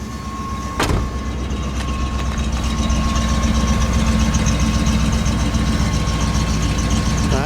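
A 1973 Chevrolet Chevelle Malibu Classic Custom idles with a steady, muffled low rumble, close and continuous, after a brief thump near the start.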